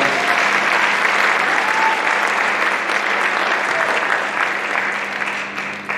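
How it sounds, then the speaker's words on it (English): A congregation applauds during a Sunday morning church service, dense steady clapping held at full volume before gradually thinning toward the end, with a faint hum underneath. "let's give them a big applause"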